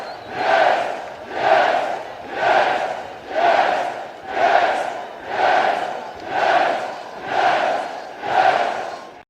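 A large crowd roars in rhythmic waves, nine loud chanted surges about a second apart, each swelling and fading like a repeated stadium battle cry, with no other sound between them.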